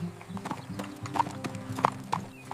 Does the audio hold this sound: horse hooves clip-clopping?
yes